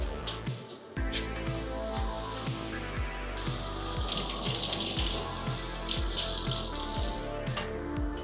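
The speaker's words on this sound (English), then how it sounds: "Run it under hot water." Hot tap water runs over a plastic RC car body being washed with dish soap, a steady splashing faucet stream broken by repeated sloshes and shifts as the body is turned under it.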